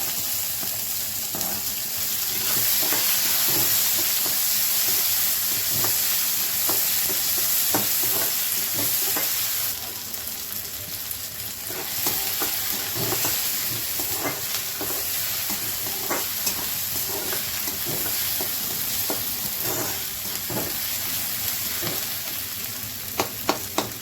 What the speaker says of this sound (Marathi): मग हे चांगलं भाजून झालं का त्याच्यात कांदा टाकून घ्यायचा.